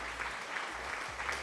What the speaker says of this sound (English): there's a little applause.